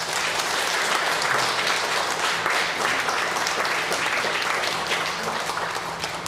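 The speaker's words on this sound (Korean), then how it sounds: "그분들을 위해서 축복의 박수하도록 하겠습니다" A church congregation claps in blessing for visiting members, a steady dense wash of applause that stays loud and even throughout, with no voices over it.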